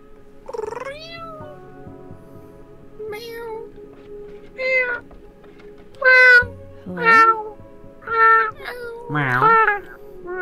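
A cat in the video game Life is Strange: Double Exposure meows repeatedly and plaintively in close, drawn-out cries spaced a second or so apart, with a low background hum.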